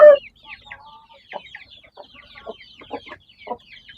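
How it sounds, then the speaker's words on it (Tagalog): A hen clucking softly beside her chicks in a backyard, with repeated short low clucks mixed with the chicks' high thin peeping, close by and fairly quiet, following one brief louder call at the start. "Ayan po yung mga sisiw niya"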